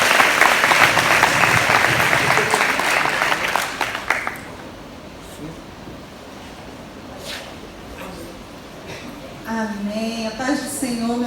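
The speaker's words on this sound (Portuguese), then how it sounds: "Você pode dar um aplauso ao Senhor pela palavra?" Applause from a church congregation during a service, a dense burst of clapping for about four seconds that then fades into quiet room sound, with a voice speaking faintly near the end.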